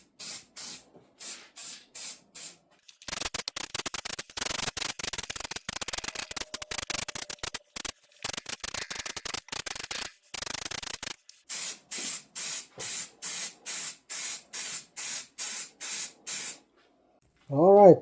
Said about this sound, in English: shake the can real well and start spraying